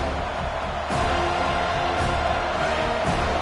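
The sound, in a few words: home crowd noise at a football game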